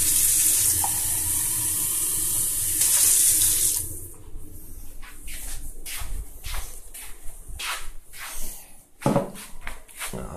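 Water poured into a container for a home electrolysis test: a steady loud running stream for a few seconds, then pouring stops and scattered clinks and handling noises follow.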